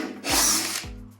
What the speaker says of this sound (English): We're gonna pre-drill